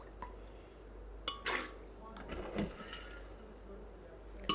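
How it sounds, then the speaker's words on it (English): Soaked soybeans and their soaking water are spooned into a blender, giving a few wet plops, drips and light clinks of spoon against container, close and fairly quiet. "we're going to like spoon it in, the beans and the water together, into like this blender here"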